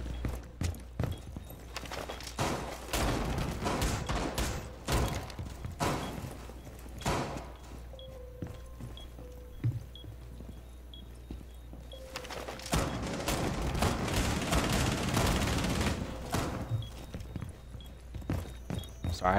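Gunfire from the video game Rainbow Six Siege sounds as repeated sharp cracks and thumps, fairly faint and scattered, with heavier bursts near the end under in-game ambience.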